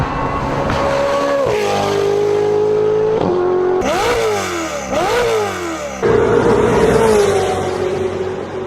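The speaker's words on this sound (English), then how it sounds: "it sounds so good with the Novitec exhaust" A Ferrari twin-turbo V8 with a Novitec exhaust revs hard in several sharp bursts, pitch climbing and dropping between blips, loud and close with a deep throaty exhaust.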